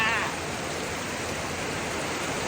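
Heavy rain pouring down outside during a storm, a dense, steady broadband roar that stays even and fairly loud from start to finish.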